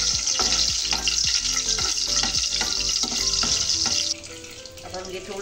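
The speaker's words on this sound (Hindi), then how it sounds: "अब हम इसी चम्मच से इसको थोड़ा थोड़ा चला देंगे।" A spoon stirs garlic, black peppercorns, cumin and chilies frying in hot oil, a steady loud sizzle with repeated scraping strokes against the pan and no talk.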